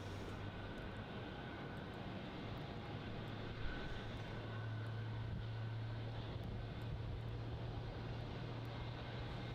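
A Hainan Airlines Airbus A330-300 jet on a runway at Melbourne Airport, heard as a steady, broad engine roar with a low droning hum that holds level and swells slightly partway through, with no talk.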